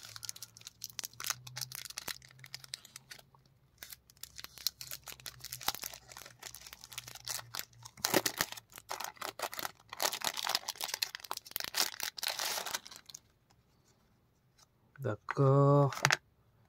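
Stiff cardboard packaging of a steelbook collector's edition is handled and opened, giving scattered crinkling, scraping and tapping sounds of varying loudness, with a short voice near the end.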